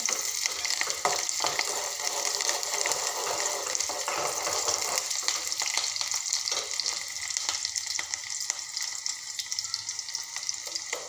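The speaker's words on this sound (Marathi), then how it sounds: "आपला कांदा हलकासा शिजत आलेला आहे" Onion frying in a pan for a Marathi amaranth greens curry, a constant busy sizzle with occasional stirring scrapes, close and fairly loud throughout, no voices.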